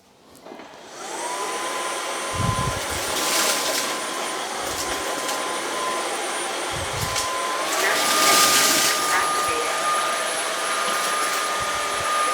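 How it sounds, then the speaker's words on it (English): Narwal S30 Pro cordless vacuum cleaner running steadily at close range, its motor whine rising in pitch partway through as boost suction kicks in, with a few low bumps of the head against the floor and no talking. "you can just pull the trigger and it will increase the suction"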